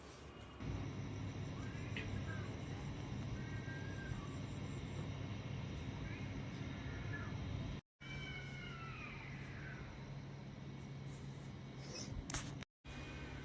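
Cats yowling and screeching outdoors at night, heard as wavering, drawn-out cries over a steady low hum of background noise, with two brief dropouts in the sound.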